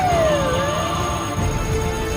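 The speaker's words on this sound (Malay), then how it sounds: "pihak bomba tiba, diikuti oleh kenderaan bulan sabit merah" Fire brigade trucks and a Red Crescent ambulance arrive at a fire drill. A wailing siren sweeps downward over a constant rumble of engines and outdoor noise, moderately loud and continuous.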